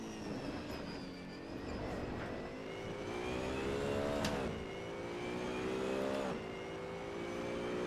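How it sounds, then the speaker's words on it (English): Race car engine in the Assetto Corsa racing game, a loud continuous drone that rises and falls in pitch as the car accelerates and shifts gears, with no talking. "This car sounds horrible, but it drives quite nice."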